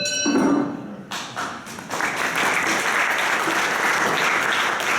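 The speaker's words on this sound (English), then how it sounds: "the audience is allowed to clap" Audience applause at a freedom of expression debate event in Coppet begins with a few scattered claps and thuds, then builds into steady, full clapping from the room.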